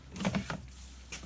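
Drain pump of a Bosch Classixx washing machine running during a motor replacement, a short mechanical whirr with a few quick pulses at the start and a faint hum afterwards, close by with no talk.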